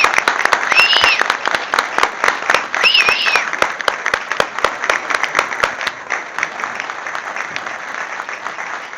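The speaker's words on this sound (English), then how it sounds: "can we give our first responders another round of applause?" Audience members at a city council meeting applaud first responders with a brisk, close round of clapping that stays strong for several seconds, then thins toward the end, with a few whistles early on.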